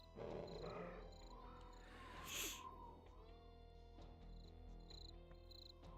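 Faint cricket chirping ambience from the video game DOOM II, a quiet, continuous backdrop with a brief louder burst partway through.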